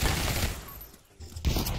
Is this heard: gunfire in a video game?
yes